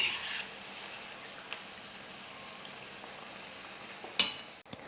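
Wheat flour snacks frying in oil over a low flame, a faint, steady bubbling sizzle with a couple of soft clinks near the end.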